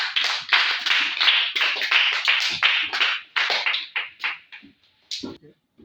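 A church congregation claps loudly and nearby in dense, uneven bursts that fade out unevenly toward the end, with voices mixed in among the applause.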